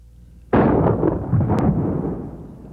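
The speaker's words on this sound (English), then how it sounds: "Here's the same medium, shot with tactical buckshot." A shotgun fires tactical number 4 buckshot into a test medium: one sudden loud blast that rolls on as a broad rumbling decay, with a faint metallic tick shortly after, no voices.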